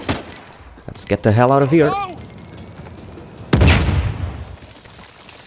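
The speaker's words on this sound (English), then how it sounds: "Who throws grenades in a gunfight?" Gunfight in Uncharted 4: rapid gunshots crackle, then a loud grenade explosion booms and rumbles off, with a voice speaking briefly over the shooting.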